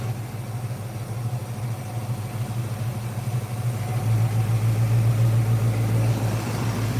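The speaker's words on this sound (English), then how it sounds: "Check out that engine there, baby. She is humming. Absolutely humming." A maroon metallic car's engine idles close by, a steady low hum that grows slightly louder and fuller midway through, with no talk over it.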